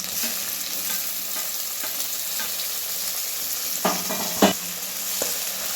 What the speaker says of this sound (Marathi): भाजून घ्या चांगला कांदा बघा लाल होईपर्यंत आता टोमॅटो टाकूया